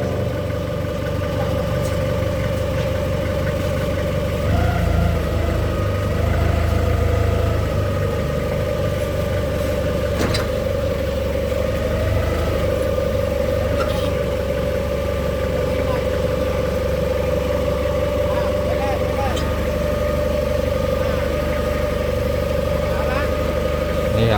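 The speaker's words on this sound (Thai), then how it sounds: "ลองขับฟกลิฟขึ้นคลองไปบริจาคครับที่วัด" A forklift engine running steadily near a canal on the way to a temple, a constant low mechanical drone with slight shifts in load, while someone talks over it.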